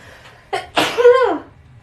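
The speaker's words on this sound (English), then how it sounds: "And I'm going to sneeze." One person sneezes loudly and close up: a short breathy intake, then a sharp explosive burst that trails off in a voiced tail, with near-silence around it.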